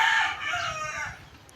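Pet rooster crowing once at close range, a single loud drawn-out call that tails off over about a second, with no voices.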